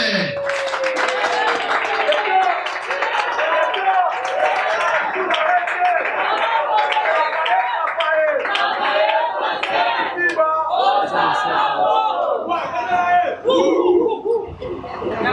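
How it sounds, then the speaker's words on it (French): A hall audience applauds and cheers frenetically for Madame Bijou la Reine at her career anniversary celebration, a dense, loud, sustained crowd roar with clapping, whoops and voices mixed together throughout. "je vais demander à la salle d'applaudir frénétiquement pour Madame Bijou la Reine"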